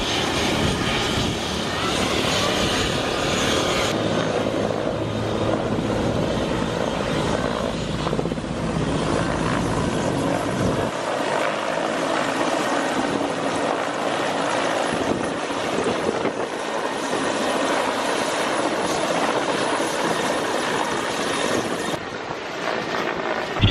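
Helicopter at the Valley of Geysers in Russia, a loud steady rotor and turbine roar that fills the whole stretch, heavier and lower at first, then easing into a constant drone with no talk.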